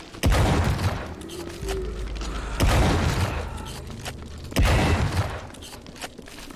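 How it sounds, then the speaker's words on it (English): Three heavy booming shotgun blasts from the video game WRATH: Aeon of Ruin, evenly spaced about two seconds apart, each followed by mechanical clatter and a lingering rumble. "Yeah, this shotgun's pretty ridiculous"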